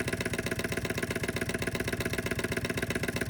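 A small PM Research hot air Stirling engine running fast, giving a steady, rapid mechanical clatter with an even, repeating beat held close and constant throughout.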